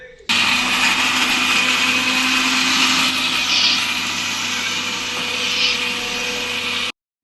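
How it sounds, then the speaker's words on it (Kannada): A kitchen mixer grinder runs loud and steady, blending fried cauliflower with coriander leaves into a paste, its high whirring roar continuing almost unbroken before cutting off at the end. "ಅದಕ್ಕೆ ಸ್ವಲ್ಪ ಕೊತ್ತಂಬರಿ ಸೊಪ್ಪು ಹಾಕೊಂಡಿದೀವಿ. ಇವಾಗ ಅದನ್ನು ಆಡ್ಸ್ಕೊಳ್ತಾ ಇದ್ದೀವಿ."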